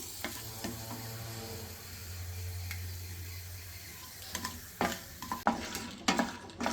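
Peanuts and cashews fry in hot oil for puliyodharai, a steady close sizzle with a low hum underneath, then sharper scraping and clattering stirs toward the end.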